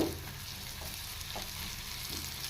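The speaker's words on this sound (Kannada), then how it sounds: "ಚೆನ್ನಾಗಿ ಫ್ರೈ ಮಾಡ್ಕೋಬೇಕು ಮತ್ತು ಶುಂಠಿ ಸೇರಿಸ್ತಾ ಇದ್ದೀನಿ" Ground spice mix and ginger fry in oil for mutton sambar, giving a steady, even sizzle that holds at one level throughout with no voices.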